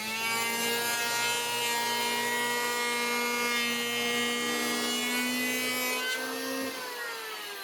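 A power tool working a wooden board for sanding and fine adjustment, a steady whining, buzzing tone that runs continuously and eases off near the end, close and fairly loud.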